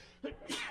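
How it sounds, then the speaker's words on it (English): A single sneeze bursts out close by, a sharp intake followed by a loud explosive release, during a casual podcast conversation about low-cost prepping. "Sneezing over here, and I got one more coming."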